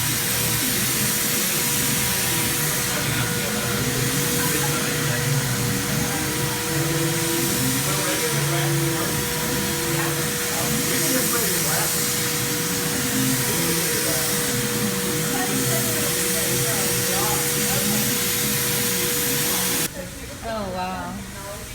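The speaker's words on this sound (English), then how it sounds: "And then we have little CNC machines." Small CNC machines routing guitar inlays on a Breedlove guitar factory floor, a steady dense whirring hum with whining tones, continuous throughout and shifting abruptly near the end.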